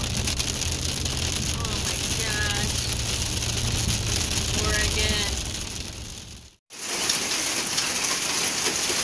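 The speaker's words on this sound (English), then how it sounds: "I wondered why the rain was so loud. It's hailing." Hail mixed with heavy rain pounds steadily on a vehicle being driven toward Portland, a dense, loud, continuous roar that drops out abruptly for a moment before resuming.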